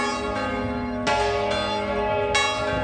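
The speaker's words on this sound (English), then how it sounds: "The bells! The bells!" Church bells at Liverpool cathedral ring out loud and resonant, with fresh strikes landing every second or so over a sustained, humming wash of overlapping tones and no talking.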